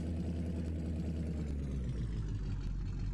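A truck engine idles in Farming Simulator 17 with a steady, low, droning rumble that holds evenly throughout, with no talking.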